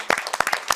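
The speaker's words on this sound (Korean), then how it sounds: "박수 한번 주세요." A short burst of hand clapping from a small group, brisk and irregular, fairly close and loud.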